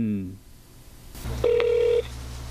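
A telephone rings without being answered, with short electronic ring tones followed by a single sustained beep and then a low hum.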